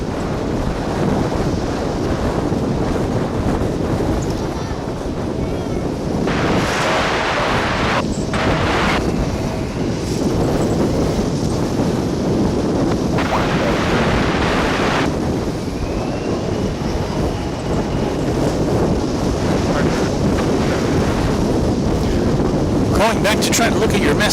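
Strong, steady wind buffets the microphone outdoors at DFW airport, a continuous roaring rush with brief louder gusts throughout, loud and close with no pauses.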